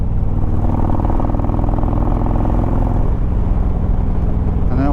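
A Harley motorcycle engine running at steady revs with a throaty, even drone, loud and close, then a brief rising throttle blip at the very end; no talking.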